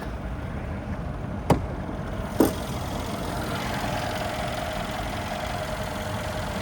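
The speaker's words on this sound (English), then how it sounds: "Engine sounds good." A 2015 Mercedes S63 AMG engine idles steadily and close by, a constant low rumble, broken by two brief sharp clicks early on.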